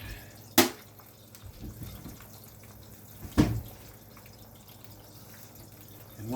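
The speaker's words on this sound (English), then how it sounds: "throw a little bit of water in with it to steam it up" Water is poured into a hot pan of sliced sausage cooking for a breakfast sandwich, giving two short, sharp hissing splashes about three seconds apart over a quiet kitchen background.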